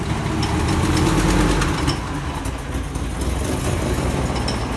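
An idling Ford Triton V10 truck engine runs loud and close with a steady low rumble, overlaid by a fast metallic rattle from the air conditioning compressor clutch, with no one talking.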